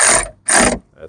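Ratchet snugging bolts on a 2005 Ford F-150 during a headlight bulb upgrade, two loud close bursts of rapid clicking with a brief pause between, then a fainter short bit at the end.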